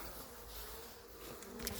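Dense, steady buzzing of many honeybees in a hive close by, a continuous hum with no voices.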